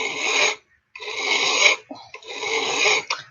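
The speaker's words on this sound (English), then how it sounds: "you'll file more down, but you just want to mostly break that edge off of there" A steel file rasps across the edge of a straight razor blade held in a vise, three long close strokes with short breaks between them.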